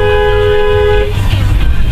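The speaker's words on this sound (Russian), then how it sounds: "Сигнал клаксона вовремя остановил лихача." A car horn sounds at a city intersection, one loud sustained toot for about a second over steady traffic rumble, which carries on after the horn stops.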